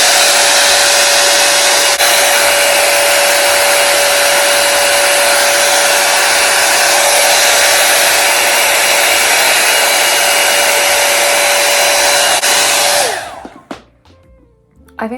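A Dyson Airwrap or a dupe hair dryer with a round brush attachment blows in a loud, steady whirring roar with a thin constant whine. It runs for about thirteen seconds, then cuts off, leaving faint handling noises.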